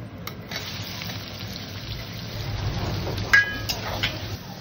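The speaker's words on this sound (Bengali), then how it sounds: "এই পেঁয়াজটা ভাজবো, পেঁয়াজটাকে ভাজতে হবে, তারপরে মাটনটা দেবো।" Onion sizzles in hot oil in a pan for mutton rogan josh with hing and garam masala, a steady soft crackling hiss throughout with a couple of brief clinks near the end.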